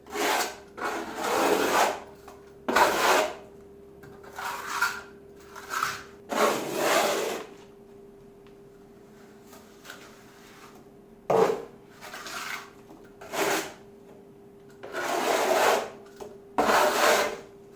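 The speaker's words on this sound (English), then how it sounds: "Now I'm just using basic trowel methods just to apply the sand and cement mix onto the wall." A trowel spreads sand and cement mix onto a chimney breast wall during a renovation. Short scraping strokes come in uneven bursts with brief pauses. The sound is close and fairly quiet, with no voices.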